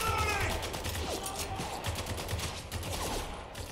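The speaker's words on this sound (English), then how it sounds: "We're taking some heavy fire here!" Video game gunfire from Spec Ops: The Line, steady and dense, with rapid bursts running under a continuous battle din and no speech.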